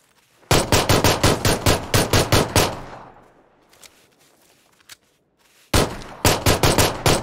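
Rapid automatic gunfire in a video game bursts out close and loud in a fast string of shots, fades into a decaying echo, then resumes with another volley; no speech is heard.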